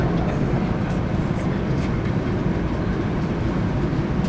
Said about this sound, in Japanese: この電車は東北新幹線やまびこ号盛岡行きです。